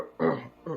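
A voice imitates a short cough, making two quick throaty bursts close to the mic.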